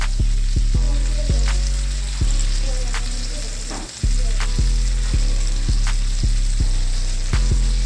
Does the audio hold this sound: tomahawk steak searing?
yes